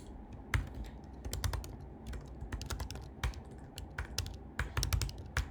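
Rapid typing on a computer keyboard during a coding session, with irregular bursts of sharp, close key clacks and brief pauses between runs of keystrokes.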